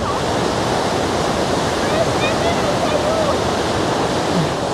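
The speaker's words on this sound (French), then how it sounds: "je ne sais pas si vous entendez le bruit de la cascade" A large, impressive waterfall roars in a steady, dense rush of water. The sound stays loud and unbroken from start to finish, close to the listener and with no pauses.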